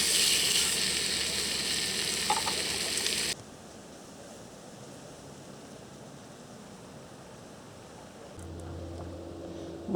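Bacon frying in a RidgeMonkey pan at a lakeside fishing spot gives a loud, steady crackling sizzle for the first few seconds, then drops to a faint hiss with a low hum coming in near the end.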